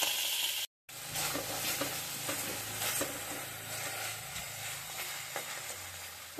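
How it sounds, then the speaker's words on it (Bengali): Cumin seeds and bay leaf fry in hot oil for a Bengali fish curry, a bright steady sizzle with faint stirring scrapes, close up, broken by a brief silent gap near the start, no speech. "জিরে ফোড়ন তেজপাতা দিয়ে।"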